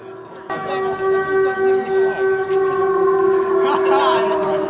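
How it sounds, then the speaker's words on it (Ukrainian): An air raid alert siren in wartime Yuzhne, Ukraine, sounds loud and steady, its tone pulsing and wavering after a sudden start, and then it continues as a sustained howl. "Перервала змагання короткочасна повітряна тривога."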